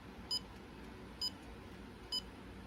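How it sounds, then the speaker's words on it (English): Three faint, high electronic chirps from a DCC decoder in an N scale Kato P42 model locomotive sound at an even pace, each a tiny blip over low background hiss. "you hear those little beeps go as well"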